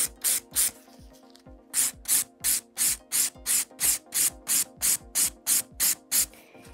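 A nail file held flat and filing an acrygel/polygel nail on bitten nails, rapid rhythmic rasping strokes of about fifteen even back-and-forth scrapes, close and loud, with a steady electrical hum underneath.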